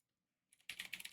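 Rapid keystrokes on a computer keyboard, close and clear, a short flurry of clattering clicks that begins after a quiet pause, with no voices.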